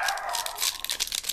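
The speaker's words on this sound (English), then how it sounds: "We apologize about the dog barking in the background." A dog barks in the background during a Yu-Gi-Oh card pack opening, a short bright burst of hoarse, noisy barking heard alone over a second or so.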